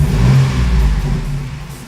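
A car engine revs up under throttle, a loud, steady mid-pitched roar that swells and fluctuates slightly over two seconds while an oil pressure gauge is being tested, with no talking.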